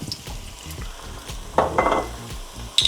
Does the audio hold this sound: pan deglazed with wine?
yes